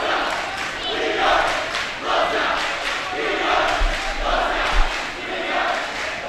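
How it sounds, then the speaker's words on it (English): A high school volleyball crowd cheers and yells in a gym during a timeout, a broad, sustained roar of many voices swelling in waves from start to finish. "Crowd is getting into it."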